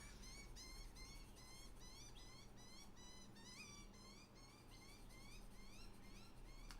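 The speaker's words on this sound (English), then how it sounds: "Don't know if you could hear the birds in the background again." Birds chirping repeatedly in quick, rising calls from a distance, faint over a low steady hum.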